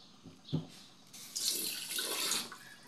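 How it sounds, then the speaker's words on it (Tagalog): Tap water running at a kitchen sink while dishes are washed. A brief splash is followed by a steady, close rush of flowing water. "maghuhugas na tayo ng plato"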